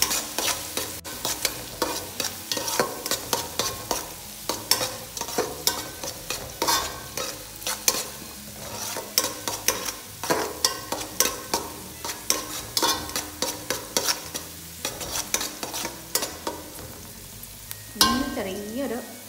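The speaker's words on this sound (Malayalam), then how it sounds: "ഇപ്പം നമ്മുടെ സവാള ചെറുതായിട്ടൊന്ന് വഴണ്ട് വന്നിട്ടുണ്ട്." Onions sauté in a pan over a flame with a continuous sizzle, punctuated by frequent rhythmic scrapes and clacks of stirring, fairly close and clear.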